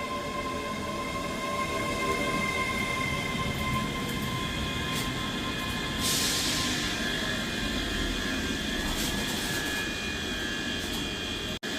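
A ScotRail class 385 electric train runs steadily past at Edinburgh Haymarket station, giving a continuous rumbling roar with wheel and rail noise throughout.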